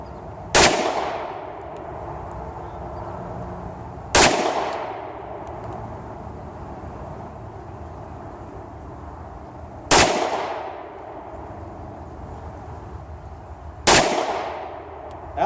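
Four single rifle shots at a three-gun practice range, each a sharp loud crack with a ringing decay, spaced several seconds apart, alone outdoors with no talk.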